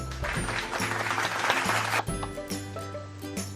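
A group of children claps together in a classroom, a steady patter of hands with a faint tonal hum underneath.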